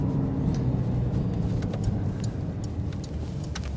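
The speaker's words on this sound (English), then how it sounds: "That downshift really sounded and burbled." A 2019 Porsche 911 992 Carrera S in Sport Plus mode downshifts, its exhaust giving a deep, close, rumbling burble with scattered small crackles across a few seconds.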